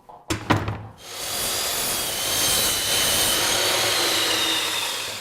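Timber is cut into identical pieces: a few sharp knocks, then a steady, loud, rasping cutting noise that carries on for several seconds without a break.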